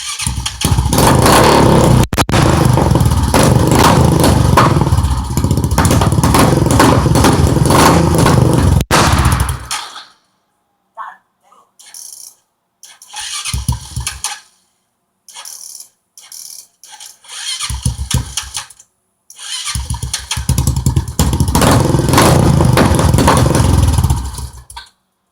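A four-wheeler ATV engine with a suspected transmission sensor and float problem roars loudly at close range for about ten seconds. It cuts out, then comes back in short sputtering start attempts and bursts of revving.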